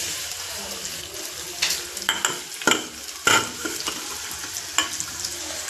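Finely chopped onion dropped into hot oil in a home kitchen, a steady sizzle broken by several sharp clatters and scrapes of stirring, with a faint voice in the background.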